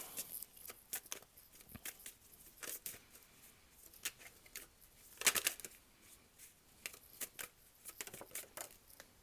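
Tarot cards are shuffled and drawn, giving close, quiet bursts of papery riffling and sharp snaps at an uneven rhythm, with no voices.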